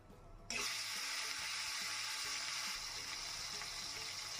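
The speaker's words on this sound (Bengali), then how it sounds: "এবার চিংড়ি মাছগুলো আমি ভেজে নিচ্ছি" Shrimp hit a hot pan and set off a sudden, steady sizzle of frying in oil with dried chilli, bay leaf and whole cumin. The sizzle is close and continuous, with faint clinks from a utensil underneath.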